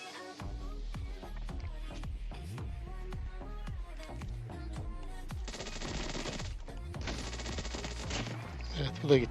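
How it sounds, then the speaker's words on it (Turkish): Rapid bursts of automatic gunfire in a first-person shooter firefight, sharp repeated shots in clusters with dense machine-gun volleys later, with faint game sounds between. "adamlar aşağıda çatışıyor"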